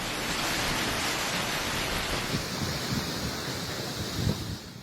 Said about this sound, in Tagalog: Panay rin ang hampas ng dagat sa San Vicente Port.